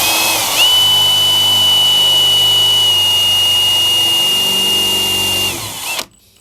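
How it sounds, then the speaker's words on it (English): A power drill pre-drills a notch, whining loudly and steadily for about five seconds, then winds down and stops, leaving near silence. "So I'm going to pre-drill it from this side, and then I'll come back and drill the top to match."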